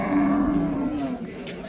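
A cow moos once at a busy livestock market in Chirokchi district, a long low drawn-out call that fades after about a second, set against crowd murmur and nearby talk.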